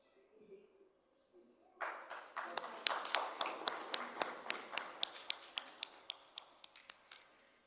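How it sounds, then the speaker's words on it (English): A conference hall audience breaks into applause for an award-winning team at a health summit, beginning as scattered claps and building into a steady round, with a few sharp, distinct claps standing out near the microphone. "Please give a round of applause to the team of Ramja Geno Sensor Private Limited."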